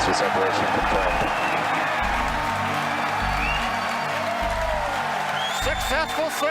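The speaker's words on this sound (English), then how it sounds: "Successful separation if you can hear me over the cheering." Crowd cheering and applause at a SpaceX Falcon Heavy launch as the side boosters separate, a loud steady roar under a commentator's voice over the whole stretch.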